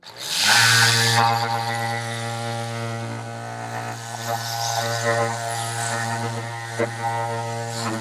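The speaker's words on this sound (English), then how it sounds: "We're going to bring the 3x4 sander right in like this." A SurfPrep 3x4 sander spins up on a door's side window piece with a sharp start, then a steady close motor drone with a strong low hum and rough sanding texture that wavers over eight seconds, no talking.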